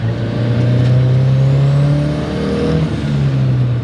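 A Mazda RX-7 fitted with a turbocharged Honda engine pulls off and accelerates, its loud engine note climbing steadily and close, then easing slightly near the end.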